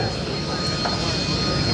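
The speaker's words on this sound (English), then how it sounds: "another vertical takeoff" A jet aircraft engine roars steadily and loudly during a vertical takeoff at a 2009 airshow in Hampton Roads, a continuous dense blast of engine noise with no pauses.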